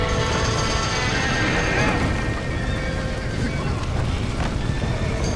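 Horses neighing and stamping in a Red Dead Redemption scene of a burning barn with trapped horses, loud and continuous under shouting voices and a dense clatter of activity.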